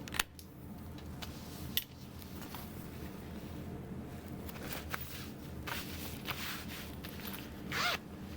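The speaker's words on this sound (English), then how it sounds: "Unzip it to the middle" A zipper on a backpack being sewn is pulled open in several short, quiet rasps near the microphone, with no talking.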